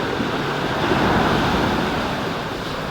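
Sea waves and strong wind along the shore during a typhoon make a continuous loud roar of surf and gusting air, with no talk.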